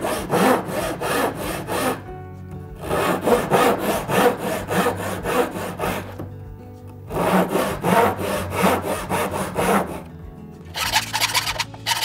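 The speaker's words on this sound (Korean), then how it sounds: "이게 2단계까지 이제 톱질이 된 거예요" Close, rhythmic hand sawing through wood in several bursts of quick rasping strokes, separated by short pauses, with no talking.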